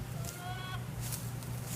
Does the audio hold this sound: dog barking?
no